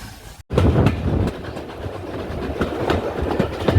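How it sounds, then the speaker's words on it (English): Steam locomotive 5239 on the Paignton and Dartmouth Steam Railway moving through Paignton Queen's Park Station, with close, loud rumbling and rhythmic wheel clatter after a brief cut at the start. "5239 Glyth on the Paignton Dartmouth Steam Railway, moving at Paignton Queen's Park Station to the other end of the train"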